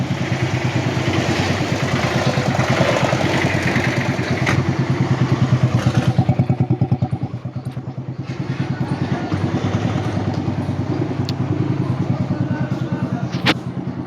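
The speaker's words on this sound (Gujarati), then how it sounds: "મિત્રો ચાલુ કરી નાખ્યું છે ટીવીએસ" A TVS motorcycle engine, just started after sitting overnight, idles close by with a steady, even chugging pulse that runs throughout, wavering slightly in loudness.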